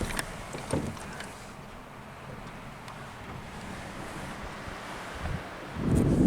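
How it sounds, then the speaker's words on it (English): Wind rushes through mountain pine trees in a steady soft broadband hiss, fairly faint and distant, swelling into a louder gust at the very end. "Wind in the pines. That's a different kind of music."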